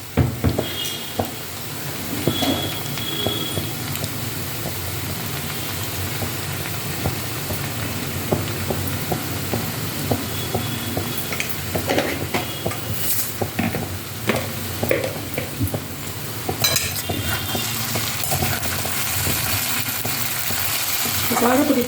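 Chili powder and spices sizzle as curry is stirred and sautéed in a hot pan, with a steady frying crackle and scraping stirs running throughout at close range.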